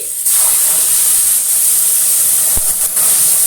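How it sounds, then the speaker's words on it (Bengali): Onion paste hits hot oil in a cooking pan, setting off a loud, steady hiss of sizzling that starts abruptly and continues throughout, with a brief clink near the end. "তো আমি এখন পেঁয়াজ বাটাটা দিয়ে দিচ্ছি।"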